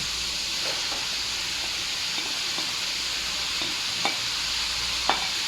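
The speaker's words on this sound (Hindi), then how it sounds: "और अभी आ गया मरहला इसमें प्याज डालने का।" Onions go into a pot of mutton karahi that has cooked dry with only salt, producing a soft steady hiss with a few faint taps and scrapes of stirring, close and quiet, no voices.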